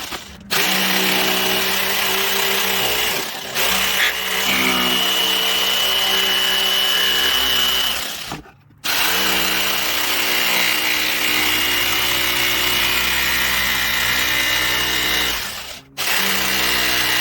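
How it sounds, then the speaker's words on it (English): A jigsaw cuts a circle out of pallet wood, its loud, steady buzzing drone running for long stretches and broken by two brief pauses as the cut is repositioned. "take my jigsaw and cut out that mark"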